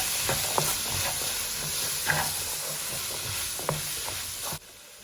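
Rinsed, drained tinned chickpeas are stirred in a frying pan for an Indian sabji, a constant close sizzle broken by several scraping spatula strokes before the sound cuts off abruptly near the end.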